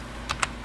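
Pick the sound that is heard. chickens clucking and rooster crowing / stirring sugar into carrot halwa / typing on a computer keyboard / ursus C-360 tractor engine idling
typing on a computer keyboard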